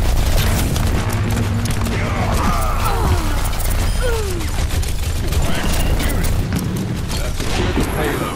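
A destroyed enemy turret explodes during an Overwatch match, a dense stretch of booms and gunfire rumbling under constant game noise and voices.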